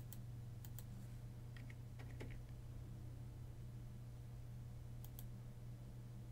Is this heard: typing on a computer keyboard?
yes